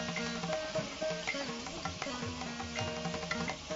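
Tamarind and chili mixture for puliyodharai simmers in a pan with a steady close bubbling sizzle, and occasional stirring scrapes run through it with no talking.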